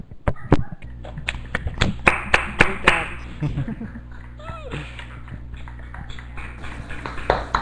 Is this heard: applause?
yes